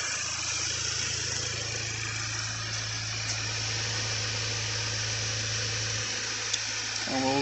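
An Audi Allroad 2.0T engine idles cold right after its first start following a timing job, a steady close drone that stays even throughout with a brief change near the end.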